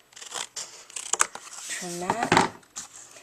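Scissors snip and trim paper eyelet trim for a handmade easel card, a few close crisp cuts mixed with rustling paper, while someone talks over it.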